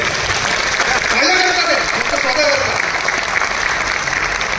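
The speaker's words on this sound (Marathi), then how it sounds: "एकदा जोरदार टाळ्या होऊन जाऊ." An audience at a Marathi news-channel event bursts into loud, sustained applause, dense clapping filling the whole stretch with voices audible underneath.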